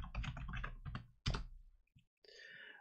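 Computer keyboard keys clack in quick bursts at close range, a run of typing with brief pauses and a short gap near the end before a softer tail.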